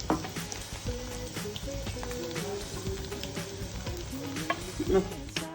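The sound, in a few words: veg manchurian balls frying in oil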